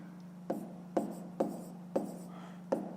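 Numbers being written by hand during a fifth-grade math exercise, close pen strokes on paper in short scratchy bursts roughly every half second, faint against a low steady hum.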